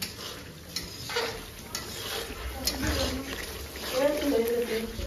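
Chicken meat cooking in a pan at a home birthday gathering, a soft sizzle and stirring scrape running under ongoing conversation.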